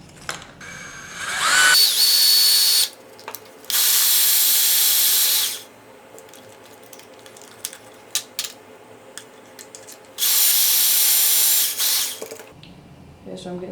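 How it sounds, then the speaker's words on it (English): A power drill whines loudly in three long bursts, drilling out the plastic air restrictor of a Nerf Longstrike CS-6 toy blaster, with quiet clicks and handling noises in the pauses between. "So I like to drill the whole thing out"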